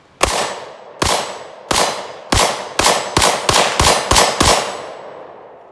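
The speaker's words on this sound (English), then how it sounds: "They make a really nice spark when they hit that steel." Nine 28-grain lead-free 5.7mm rounds from an FN Five-seveN and a Ruger-57 strike a steel target. Each hit is a sharp, ringing metallic clang that decays slowly, and the hits come at a steady pace before bunching closer together toward the end.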